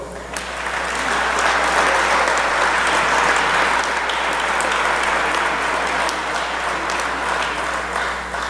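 Sustained audience applause at a high school athletic hall of fame ceremony honoring Beau, a steady dense clapping that fills the hall for several seconds.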